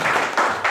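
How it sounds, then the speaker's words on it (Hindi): Audience applause and clapping at a business-plan presentation, a dense burst of hand claps filling the short moment at steady loudness with no talk over it. "एक बार जोरदार तालियां होनी चाहिए संस्था के लिए"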